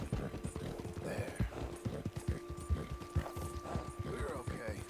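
Horse hooves clip-clopping in the video game Red Dead Redemption 2, a close, steady walking rhythm of hollow knocks with faint tack jingle, while someone talks over it.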